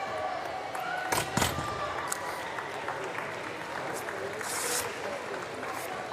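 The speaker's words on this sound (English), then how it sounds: "Muted applause, but they'll get a little noisier now" Subdued applause from the crowd at a Paris 2024 Olympic weightlifting session, a steady, soft patter of many hands with a few sharper claps standing out, while a commentator talks over it.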